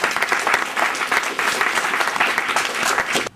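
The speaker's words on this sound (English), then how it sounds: "first I think we need to clap." An audience bursts into dense, steady applause after a caregiver interface demonstration, loud and continuous for a few seconds before cutting off abruptly, with no talking over it.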